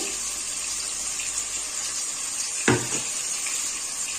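Hot water is poured and stirred into ground spices, including cumin powder, in a Bengali kitchen, making a steady close hiss of running liquid broken by a single brief clink of a utensil.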